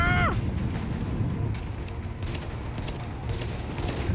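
Gunfire and grenade blasts in The Division, a dense, continuous fusillade of shots and booms rolling steadily throughout at moderate volume after a brief whistling tone at the start.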